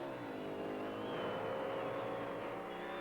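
A Plymouth Roadrunner drag racing car drones in a sustained engine tone that rises slightly in pitch, heard at a distance and fairly faint, with no voices.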